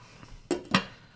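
A lid is set onto a pot of chicken soup being brought to a boil, giving two quick metallic clanks a moment apart, close and fairly clear in a quiet kitchen.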